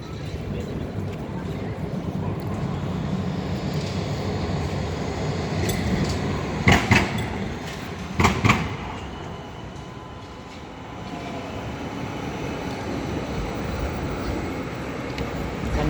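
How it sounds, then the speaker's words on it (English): Melbourne trams pass on Elizabeth Street, a steady rumbling rolling roar of traffic with a couple of sharp clanks and squeals midway. "The number of the trams they are crossing the road."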